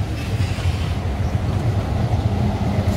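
A retro Nostalgia tram rolls along its line in Antalya, a continuous low rumble and rattle of the wheels on the rails heard from inside the car, steady and fairly loud throughout.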